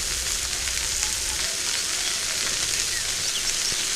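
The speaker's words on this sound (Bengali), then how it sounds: "ঝিঙেতে আমি জল দেবো না, ভালো করে ভেজে নেব।" Sliced ridge gourd frying in a pan with salt and no added water, giving a steady, even sizzle close by with no talking.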